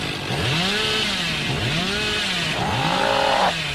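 A chainsaw revs in a video game, loud and close, its pitch repeatedly swooping up and down in a steady rhythmic cycle of about four surges.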